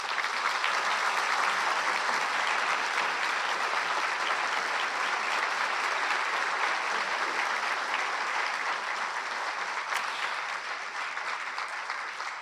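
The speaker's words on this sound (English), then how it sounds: "Please join me in a huge round of applause for Cori Allison." Sustained, loud audience applause at a community award ceremony honoring local heroes, a dense unbroken wash of many hands clapping that holds steady for over ten seconds.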